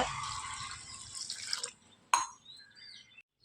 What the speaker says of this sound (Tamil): இந்த ஒரு டம்ளர் உளுந்துக்கு ரெண்டு டம்ளர் தண்ணி விட்டு நல்லா ஊற வச்சுருவாங்க